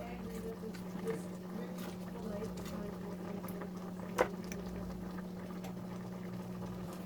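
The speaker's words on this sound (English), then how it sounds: "So this is the one that we have already boiled for 1 to 2 minutes." Squash pieces simmer in sugar syrup with lemon for candy, giving a continuous even bubbling with a low steady hum. One sharp clink stands out midway, with no talk over it.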